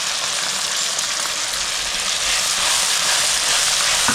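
Steady loud sizzling as a ginger, garlic, chili and onion paste fries with softened tomatoes in a pan, a continuous close hiss with no talking.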